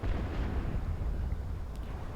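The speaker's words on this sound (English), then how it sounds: "yeah, long-range artillery." Long-range artillery firing in the real-time strategy game Supreme Commander 2, a dense, rumbling barrage of booms rolling continuously at close range, with no voices.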